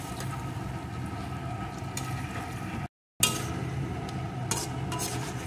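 Onion and capsicum fry in a pan with a splash of vinegar for restaurant-style chilli chicken, giving a steady close sizzle with stirring scrapes and one brief gap.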